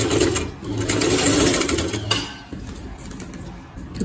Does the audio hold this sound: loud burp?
no